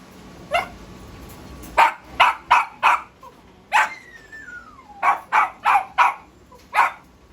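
A puppy barks in short, sharp bursts nearby, about a dozen yaps in uneven clusters, with a faint whine between them.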